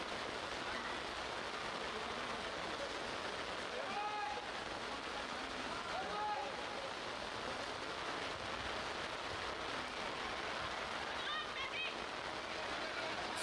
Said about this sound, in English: as the rain continues to just pour down, beat down on this pitch